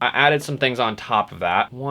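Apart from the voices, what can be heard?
No distinct noise like a dog, phone or traffic.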